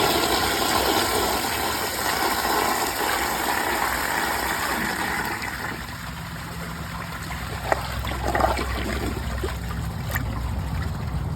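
A 2018 Mansfield Summit dual flush toilet on a mid-fill tank flushes with a steady, close rushing of water that eases partway through into a softer trickle and refill hiss, with a couple of small knocks.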